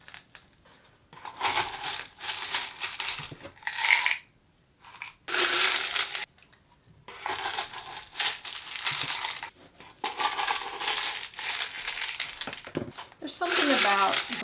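Small decorative rock is poured and spread over the soil of potted succulents indoors, giving repeated bursts of close gritty rattling and crunching, with short pauses between handfuls.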